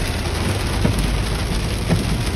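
Heavy rain pours down during a hard storm, a loud steady wash of drops drumming on surfaces around a small car, continuous and dense with faint thumps now and then and no talk.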